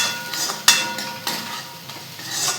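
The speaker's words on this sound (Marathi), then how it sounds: "त्यामध्ये आपण लसूण पेस्ट टाकू. ती पण छान अशी परतून घ्यायची" Garlic paste being sautéed in a pan for homemade aloo paratha, with soft stirring scrapes and a few sharp utensil clinks against the pan over a faint background sizzle, no talk.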